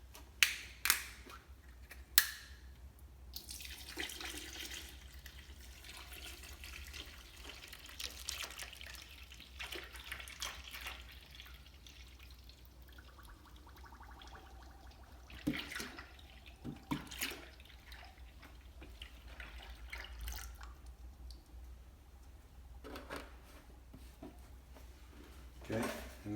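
Four liters of liquid poured into an IKEA pot on an IKEA 1800-watt induction cooker, with a steady wash of trickling and splashing for several seconds, framed by a few sharp clicks and clinks of the pot.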